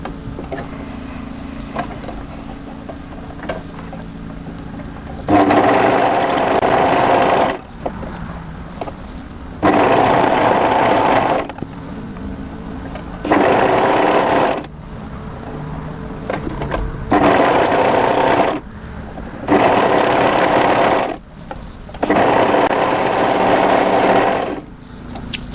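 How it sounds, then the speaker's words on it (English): An overlocker stitches a winter sweater seam in repeated loud bursts of rapid whirring, each a couple of seconds long, separated by short pauses over a low background hum, with no talking. "when you're ready, overlock into position"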